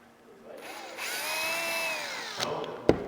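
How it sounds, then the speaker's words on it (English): Power drill with a 4mm bit boring through a plastic fairing cover on a KTM 690 motorcycle, a close whine that rises, holds steady for about two seconds, then winds down, ending with a sharp clack. "you take a 4mm drill, you mark it from outside and"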